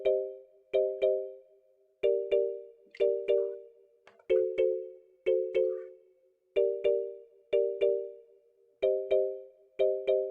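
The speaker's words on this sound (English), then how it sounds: "karimba sound from Purity" Kalimba tones from the Purity plugin in FL Studio play alone in a steady soloed pattern, with plucked bell-like notes ringing and decaying in regular pairs, clean and close over about ten seconds.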